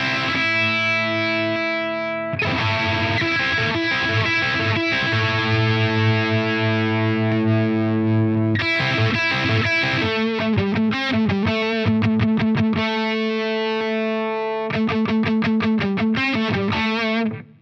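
Electric guitar through a Flattley Plexstar distortion pedal with a mid-frequency boost, playing sustained chords and then choppy rhythmic stabs. The tone is thick, loud and continuous, with no talking.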